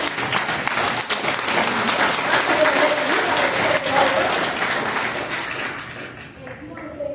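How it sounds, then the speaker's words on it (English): A crowd at an African American community celebration applauds loudly and steadily, a thick wash of clapping with scattered cheers and voices mixed in, tapering slightly toward the end. "So give him a round of applause"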